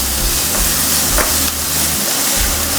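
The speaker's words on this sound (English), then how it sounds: "you want to go in with your chopped garlic and your chopped onion. You want to saute this just for a bit." Chopped garlic and onion saute in hot vegetable oil, a loud, close, continuous sizzle and hiss with faint stirring, no voices.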